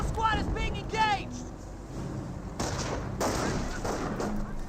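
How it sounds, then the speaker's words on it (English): Gunfire from a Company of Heroes 1 match, with Panzer Grenadiers under fire: a dense crackle of small-arms shots sustained throughout, while someone talks over the opening second. "Panzer Grenadiers are receiving some fire there."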